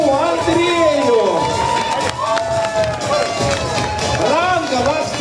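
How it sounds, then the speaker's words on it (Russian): Circus audience cheering and applauding an elephant named Andrei in the ring, a loud, dense crowd roar with shouting voices close by throughout. "Так, друзья, мы аплодируем слону Андрею."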